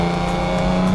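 An old Ford Capri drives on a race track, its engine giving a steady, loud, close drone with no talk over it.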